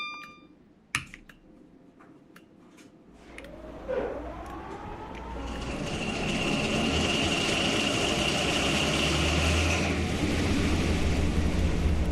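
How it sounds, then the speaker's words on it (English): In the British Railway video game, a train powers up from a few beeps and clicks to a rising whine, then settles into a loud sustained engine drone with a steady high tone. "Let's listen to the startup sounds because I love them."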